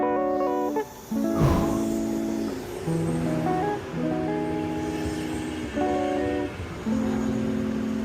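Train station ambience on a platform: a steady background hum with sustained tonal bands that shift in stepped patterns, and a brief noisy burst near the start. No speech.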